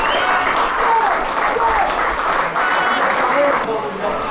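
Football crowd applauding a substituted Witton Albion player as he leaves the pitch against Glossop North End, a steady broad wash of clapping from the stands with some voices and whistling tones mixed in.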